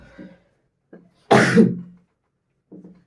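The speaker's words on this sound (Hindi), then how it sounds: "इतनी खांसी क्यों आ रही है?" A single loud, harsh cough bursts out between brief faint murmurs, close to the listener and otherwise quiet.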